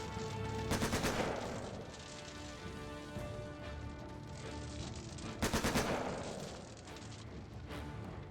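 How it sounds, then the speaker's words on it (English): Grenade blasts and rapid gunfire in The Lamplighters League, with two heavy explosive bursts near the start and middle over steady crackling automatic fire and debris, loud and close with no talking. "They like their grenades."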